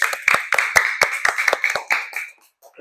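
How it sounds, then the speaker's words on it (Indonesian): Children clap their hands in a classroom, about ten sharp, fairly quick claps in an uneven rhythm that thin out and fade to near silence at the end. "tepuk tangan untuk Jelita"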